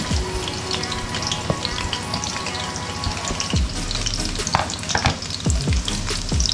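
Onions and two or three green chillies sizzle loudly in hot oil for a fish curry tempering, with continuous crackling spatter and occasional scrapes of a stirring spoon against the pan.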